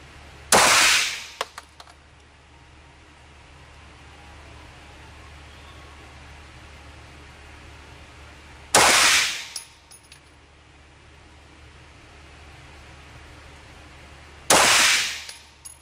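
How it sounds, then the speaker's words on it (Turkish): Three loud, sharp pistol shots from a Glock ring out at a range, spaced several seconds apart, each with a brief metallic echo and quiet pauses in between. "Tetik disiplinine dikkat ediyoruz. Evet ya Allah bismillah. Bakalım nereye gidecek"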